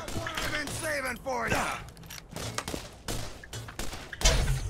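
Revolver and other gunfire crackle through a Borderlands firefight, a rapid string of shots and sharp bursts with mechanical clicks and a heavy thump at the end, while someone talks over the action.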